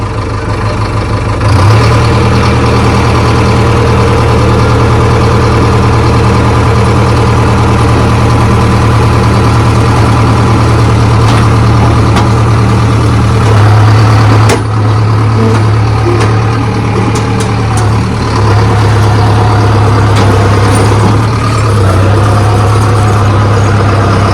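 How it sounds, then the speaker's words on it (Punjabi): A 4x4 tractor is pulled out by a towing machine, heard as heavy diesel engines rumbling and idling loudly and continuously close by, with a steady low drone and slight surges. "ਪਾ ਲਿਆ ਬਈ ਟੋਚਨ ਮਸ਼ੀਨ ਨੇ"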